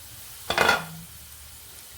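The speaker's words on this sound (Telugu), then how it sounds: "ఈలోపు నేను పిండి వడియాలు వేగించుకొస్తానండి." Flour vadiyalu drop into hot oil and fry with a brief, bright burst of sizzling that quickly settles into a faint, low bubbling.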